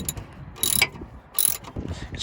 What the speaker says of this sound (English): We're gonna go ahead and start loosening that up.